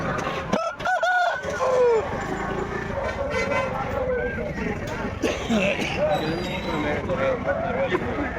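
A rooster crows among bird sounds at a poultry sale, with people talking over and around the calls throughout.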